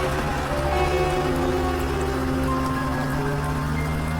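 Heavy rain pours steadily and loudly on a truck pushing along a lonely, eerie dirt road through a forest, a dense unbroken hiss with constant low rumble and no voices.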